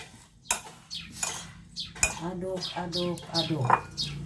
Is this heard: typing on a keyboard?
no